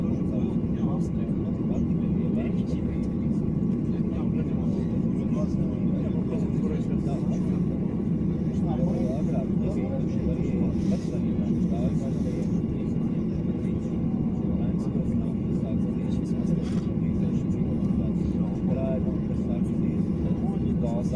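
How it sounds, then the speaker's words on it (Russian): A jet airliner taking off at an airport produces a steady, loud roaring rumble that continues unbroken throughout, with the engine noise spread wide and constant and heard from a distance. "Вот сейчас один самолет взлетает."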